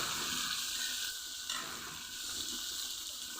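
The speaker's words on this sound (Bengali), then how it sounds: "কিছুক্ষণ ভেজে পেঁয়াজ আলু কিছুক্ষণ কষিয়ে নিয়েছি" Chopped onion and potato frying in a pan for a hilsa curry, a faint, even hiss that holds steady throughout with no voices.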